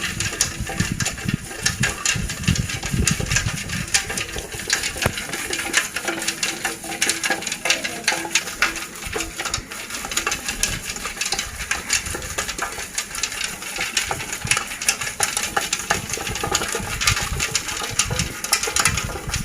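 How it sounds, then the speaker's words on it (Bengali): Sugar being churned into green mango (aam pora) sherbet with a wooden dal churner spun by hand, giving a steady, rapid whirring and rattling swish that runs without pause, close and fairly loud, with no talking. "ঘুটছে চিনিগুলো যাতে গলে"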